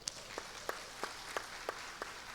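A congregation claps for the Bragança caravan: faint, evenly spaced claps about three per second, distant-sounding, over a quiet room.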